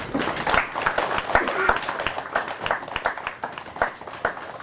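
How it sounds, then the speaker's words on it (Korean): Applause during a church worship service, a congregation clapping in encouragement; fairly steady, moderately loud clapping with some talk mixed in. "우리 격려하며 우리 박수하도록 하겠습니다"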